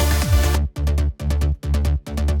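An uplifting trance drop plays its bass line: a dense opening swell, then a heavy, rolling sub-bass pattern pumping in short, regular, loud pulses with no talk over it.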